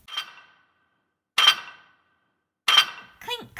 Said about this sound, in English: Clink, clink went the nail on the knife